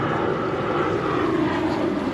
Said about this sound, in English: planes going over and shit.